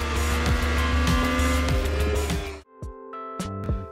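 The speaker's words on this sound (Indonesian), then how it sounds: "Mengingat iklan Yamaha R3 yang menonjolkan suara yang kayak gini nih." A Yamaha R3 sport motorcycle engine roars loud and close in an advert, revving hard with rising pitch, then cutting off abruptly before short sharp blips return.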